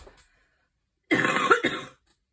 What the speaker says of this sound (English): got a terrible cough today